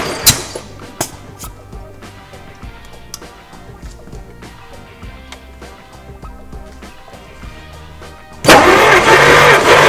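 A Jaguar Mark 2 engine is cranked over with a compression gauge fitted in a spark plug hole, giving a steady rhythmic churning of starter and engine, ending in a sudden loud broadband roar near the end.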